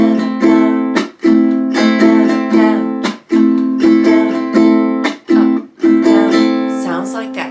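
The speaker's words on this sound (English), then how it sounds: "why not add a chuck to your island strum?" A ukulele plays the island strum pattern with a percussive muted chuck, on a chord progression from a song; bright repeated strums are broken by short choked hits, loud and alone.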